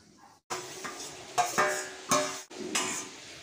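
Gravy is poured into a simmering potato and paneer curry and stirred, giving a close run of scraping, sloshing stirs with a few sharp clinks of a spoon against the pot and a soft sizzle beneath.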